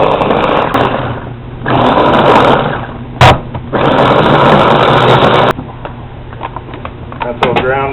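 A small bullet-style kitchen blender grinds vegetable scraps such as broccoli for a red wiggler worm farm, a loud close motor whir in two long bursts with a short break between, then stopping into quieter handling clatter.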